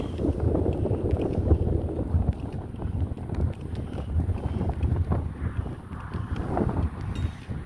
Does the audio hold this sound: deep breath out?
no